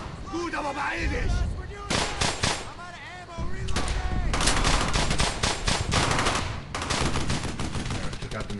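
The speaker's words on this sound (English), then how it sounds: "There, took out the machine gun entirely." Heavy machine gun bursts and scattered rifle shots fill a World War II battle in the video game Brothers in Arms: Hell's Highway, dense and loud, with voices shouting over the gunfire.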